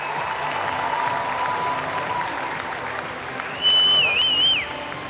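An audience applauds at a medal presentation during the 2022 FINA World Swimming Championships finals in Melbourne: steady, dense clapping from a large crowd, with a brief whistle-like tone rising over it near the end.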